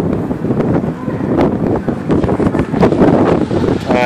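Steady wind buffets the microphone outdoors on a university campus during a preview day, a loud continuous rumble with gusts throughout.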